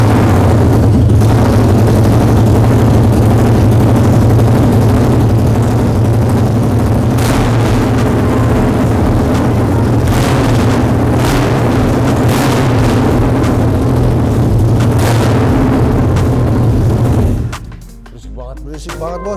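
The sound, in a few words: Harley-Davidson Night Rod 2011 motorcycle engine running, loud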